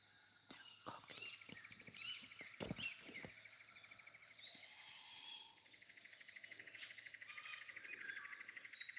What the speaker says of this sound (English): We're listening to a live bird.